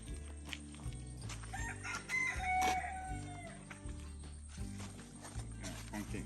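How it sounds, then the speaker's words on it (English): American and Liberian country chickens on a farm, with a rooster crowing and hens clucking at moderate distance while people talk nearby. "we have the American chickens, we have Liberian chickens, what we refer to as the country chickens"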